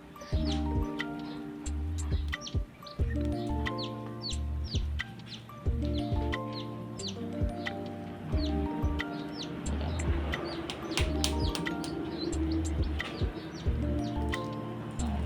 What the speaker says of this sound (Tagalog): So malalakas yung mga sisiw natin guys ngayon.